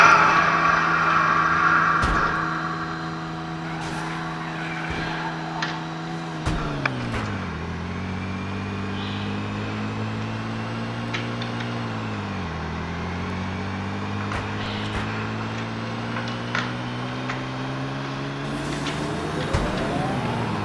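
A damaged car drives in Wobbly Life, its steady engine drone shifting pitch a few times as it changes speed, with brief clunks and knocks over a continuous background hum.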